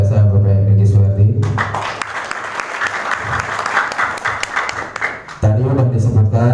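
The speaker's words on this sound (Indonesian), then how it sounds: "berikan aplaus yang meriah buat MC kita yang sangat luar biasa Bapak Regi Suwardi" Loud, dense applause from a seated business-seminar audience honouring the MC, filling the room for about four seconds between stretches of someone speaking over a microphone.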